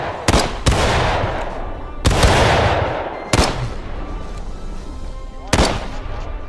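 Musket gunfire in the Civil War video game War of Rights: four loud, close booming shots spaced a second or two apart, each followed by a long rolling echo, with scattered distant shots in between.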